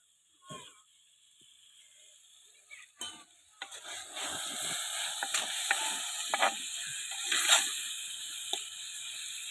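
Prawns frying in a pan, with soft sizzling and scraping stirs building up over several seconds, intermittent clinks and scrapes over a steady hiss.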